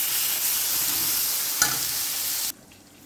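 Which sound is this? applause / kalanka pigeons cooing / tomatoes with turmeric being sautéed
tomatoes with turmeric being sautéed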